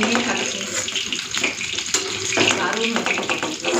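Lote fish pakoras coated in ground lentil paste sizzle in hot oil, a dense, crackling hiss with bursts of spattering that carries on throughout at close range.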